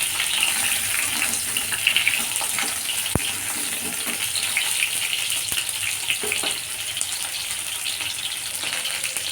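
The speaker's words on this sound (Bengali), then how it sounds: "এবার পটলগুলো ভেজে নেব।" Pointed gourd (potol) fries in oil in a pan, a steady, close sizzle and crackle that runs throughout, with one sharp knock partway through.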